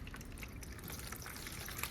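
Water is thrown or poured in a home kitchen while washing up before cooking a Jamaican family meal, a faint, steady dribbling and splattering under a low background hum.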